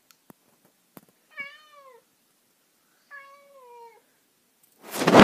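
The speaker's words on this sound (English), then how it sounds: "There's my cat meowing." A house cat gives two separate drawn-out meows a second or so apart in a quiet room, with a few small clicks before and a burst of rustling noise at the end.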